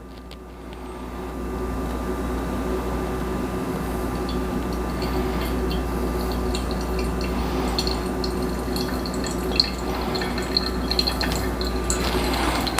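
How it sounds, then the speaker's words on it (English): A kettle pours a steady stream of water over ground coffee in a pour-over, continuously over a low, constant hum, with small splashes and drips toward the end. "this kettle likes to pour faster anyways"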